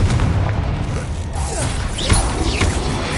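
Confringo fire-curse blasts in Hogwarts Legacy on PS5, deep booming explosions with mechanical clanks and crashes layered in a dense, loud combat mix, peaking in a sharp burst past the midpoint.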